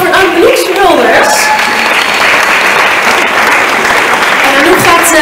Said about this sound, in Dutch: Mag ik een applaus voor Anouk Schulders?